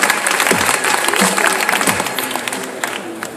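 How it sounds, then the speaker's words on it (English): An audience at a startup pitch finals event breaks into sustained, dense applause that fills the room. A few voices and cheers mix in, and the clapping fades slightly toward the end. "Give him a big applause."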